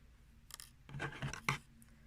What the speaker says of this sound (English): And then just cut off your threads.